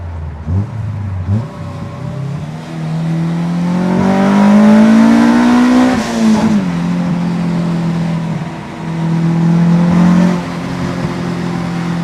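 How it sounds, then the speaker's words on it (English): Honda fitted with a B20Z engine and an Integra head, heard from on board while driving; the engine note climbs and falls through steady revs, loud and close, with no talking. "just enjoy the drive and listen to the car a little bit"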